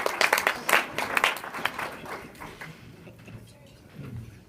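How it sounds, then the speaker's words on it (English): An audience at a live show claps for a volunteer, a brief burst of dense, fairly close applause that thins out after about two seconds, leaving scattered claps and faint room noise. "Can we give Allie a round of applause?"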